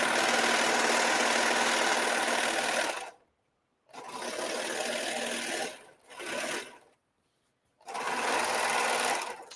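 A serger stitches along a curved fabric edge in loud, steady bursts that stop and restart several times with short silences between runs.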